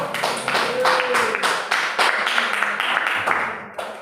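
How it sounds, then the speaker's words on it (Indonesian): A classroom group applauds another small group of students, clapping in broad bursts with a loose rhythm, voices mingling with the claps before the sound tapers off at the end. "Tepuk tangan untuk kelompok jeruk"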